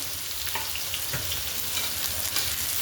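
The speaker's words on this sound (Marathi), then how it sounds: "बारीक चिरलेला कांदा दोन मोठाले कांदे चिरले होते बारीक मग ते फ्राय करून घेऊ आता" Finely chopped onions from two large onions fry in oil on a flat roti tawa, giving a steady, close sizzle with occasional stirring scrapes throughout.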